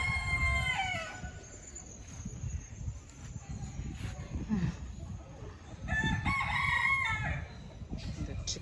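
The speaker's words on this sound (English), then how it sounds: "The chickens." Chickens cluck in a zoo enclosure in Jamaica while a rooster crows several times, the calls moderately close over a faint outdoor background.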